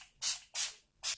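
A Revolution makeup setting spray misted in three quick, close bursts with short gaps between them, each a bright airy hiss.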